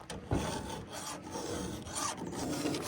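Steady rasping of a hand file sharpening a chainsaw chain to a square-ground profile, continuous scraping strokes close up with a slight knock near the start and no talking.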